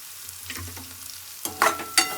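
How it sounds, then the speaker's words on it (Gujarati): Onions frying in oil in a pan for aloo paratha filling, stirred with a few quick scraping strokes over a low sizzle, the last two stirs louder and close. "ડુંગળીને હલાવી લેશું અને થોડીક વાર પાકવા દઈશું."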